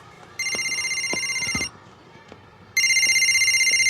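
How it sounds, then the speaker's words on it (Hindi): A telephone rings in two long electronic bursts separated by a short pause, with faint background noise and a few clicks. "उठा ले बेटा, तेरी मम्मी का ही फोन होगा।"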